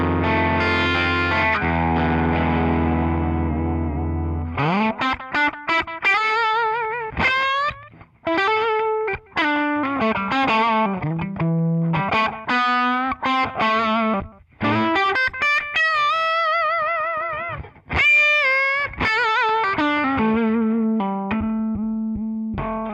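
Electric guitar through a Tonex One amp modeler set to a Dumble amp model, with an overdriven tone, a sustained chord then a run of phrased single notes and bends, steady and loud with no talking.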